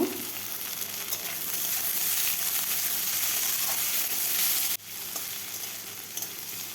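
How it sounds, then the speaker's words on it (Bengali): Potatoes and green chillies frying with onions in a pan produce a continuous bright sizzle and hiss that dips abruptly near the end, then carries on, close and with no voices. "দিয়ে দিলাম কেটে রাখা আলু কাঁচা লঙ্কা দিয়ে সামান্য একটু ভেজে নেব"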